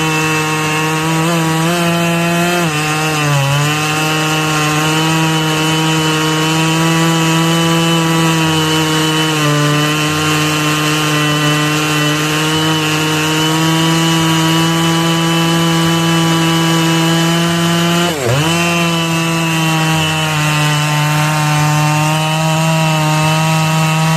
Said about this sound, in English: When power meets control, you get the Stihl Ms. 880 Magnum. This chainsaw doesn't just cut, it carves through timber like butter.